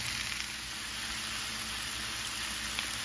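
Beef short ribs searing in a hot pan, giving a steady, dense sizzle that holds evenly and continuously without a break, close up, with no talking over it.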